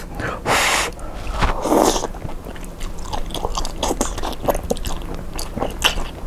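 Crispy bacon is bitten and chewed up close, with crunchy bites and wet chewing that carry on steadily, and light breathing sounds in between.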